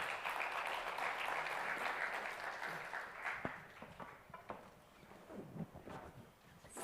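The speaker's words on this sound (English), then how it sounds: "Please help me with a round of applause for our panel." An audience at a real estate proptech forum session applauds the panel, a dense clapping that is fairly faint and fades over several seconds, leaving scattered claps and low room noise.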